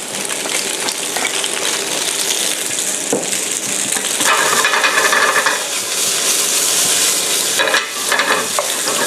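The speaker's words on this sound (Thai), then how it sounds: "ผัดให้หอม ให้น้ำมันมันเคลือบให้หมดเลย" Macaroni being stir-fried in a salty sauce with black pepper added, a loud continuous sizzle with scraping stirring strokes and clinks of the utensil against the pan throughout.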